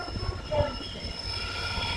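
Trains in the Yesvantpur Junction loco shed maintenance area, a low continuous rumble with a faint metallic squeal and steady hum, heard from a moderate distance without talk.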